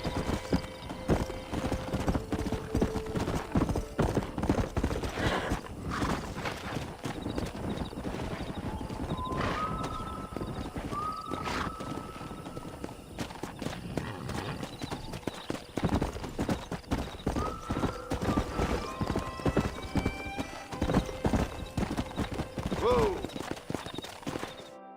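Hooves clip-clop and horses whinny repeatedly in Red Dead Redemption, a steady loud gallop with sharp neighs rising over it, and voices talking at times in between.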